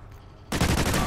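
Sudden burst of loud automatic gunfire in the Warhawk video game, starting abruptly after a quiet moment and continuing as rapid, close shots.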